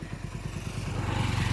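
A motorbike labours up a slope, its engine throbbing in a rapid low pulse that grows slightly louder and more insistent as it strains.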